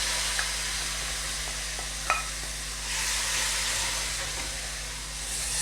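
Fried raisin tempering being stirred into ash gourd halwa in a pan, a soft continuous sizzle and hiss with a few faint spoon scrapes, steady and close, no voices.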